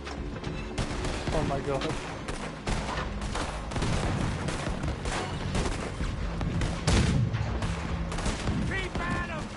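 Heavy sustained gunfire on Guarma island in Red Dead Redemption 2, with rapid shots and booming blasts piling up loud and close, while a voice shouts over the shooting.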